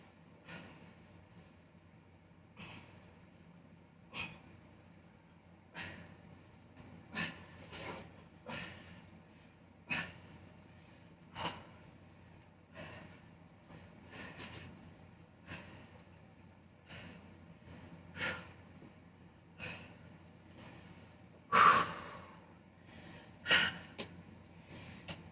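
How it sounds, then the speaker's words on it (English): Heavy breathing while resting after upper body strength exercises such as Turkish get-ups, faint slow breaths with periodic sharper exhales and gasps spaced a few seconds apart, close and quiet with no talk. "We are resting and breathing."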